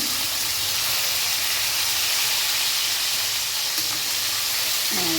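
Steam hisses steadily from a pot of fish curry once the lid is lifted off. It makes a loud, even sizzling wash with a faint clink near the end.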